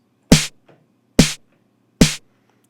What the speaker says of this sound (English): The second sound is a snare drum.